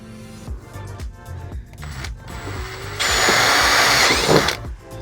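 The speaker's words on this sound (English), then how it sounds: "so I'm just gonna go ahead and drill it out" A power drill bores a hole through the bumper of a 2024 Subaru WRX GT during an aero part install. Short bursts give way to a steady, loud whine of drilling for a couple of seconds.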